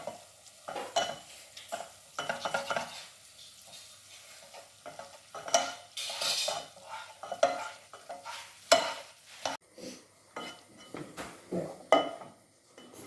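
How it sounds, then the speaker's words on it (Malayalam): Noodles are stirred in a pot in a home kitchen, irregular bursts of scraping and sizzling with metal clinks of a utensil against the pan, each stroke separated by short quiet gaps. "പയ്യെ ഇളക്കാം."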